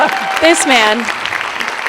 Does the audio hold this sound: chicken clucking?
no